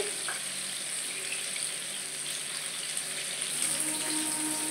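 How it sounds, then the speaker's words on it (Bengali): Young jackfruit pieces fry in a pan, giving a continuous soft crackling sizzle that holds steady and close for several seconds without any voices. "এখন ভাজা হচ্ছে।"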